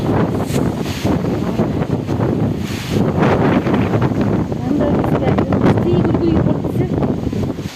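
Strong, gusty storm wind roars steadily and buffets the microphone in an exposed village spot in the Khulna region, with faint muffled voices beneath the rushing noise.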